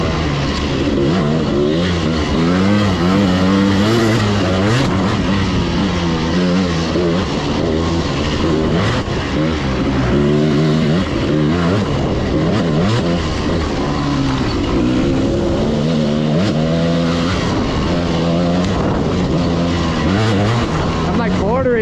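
A 1995 KTM 300 two-stroke dirt bike revs hard through third gear on a forest trail. The engine note wavers and climbs continuously for the whole stretch, loud and close.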